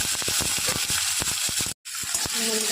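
Spices with green chilli and tomato frying in a little oil, a continuous close sizzle with crackling pops and a short break, no talk.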